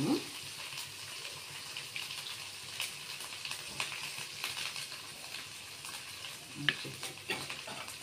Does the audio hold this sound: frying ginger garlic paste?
yes